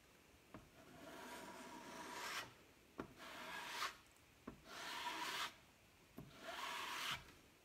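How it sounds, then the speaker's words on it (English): A 4-inch squeegee drags transfer paste across a wooden dresser drawer in four or five separate swipes, each a soft, close rasping scrape that begins with a light tap and ends in a quiet pause. "Then I'm going to take my 4-inch squeegee."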